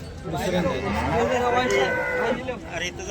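A buffalo lows in drawn-out, deep moos close by at the Sangola buffalo market, with people chattering faintly in the background.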